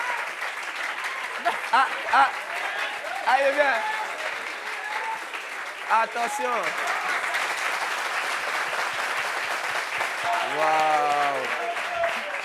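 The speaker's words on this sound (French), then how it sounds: "Applaudissements pour elle, s'il vous plaît." An audience applauds in a dense, sustained wash of clapping while voices speak and call out over it.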